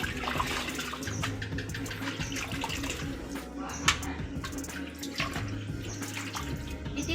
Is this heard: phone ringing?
no